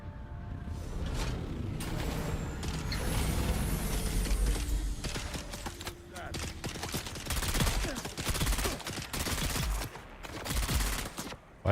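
Repeated gunshots and mechanical weapon clatter from a Dune roleplay video game ring out in loud bursts, with several shots fired in quick succession and a scraping, ratcheting texture between volleys.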